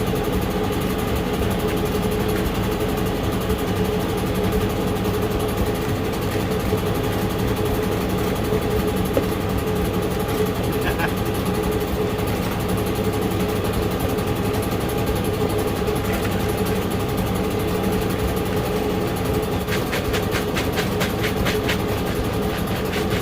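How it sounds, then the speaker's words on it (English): A gas-powered backpack blower runs at a steady, even drone with no change in pitch. It is fairly close and continuous, with no talking. "Use the backpack blower."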